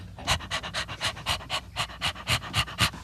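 A person imitates a panting dog out loud, giving about a dozen quick, rhythmic breathy huffs that stay close and moderately loud, with no other talk.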